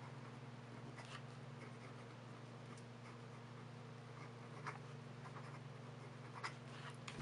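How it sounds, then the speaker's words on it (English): A pen scratches quickly across paper in soft, close strokes, faint beneath a steady low hum, with no voices. "A little bit of writing real quick. Fast writing."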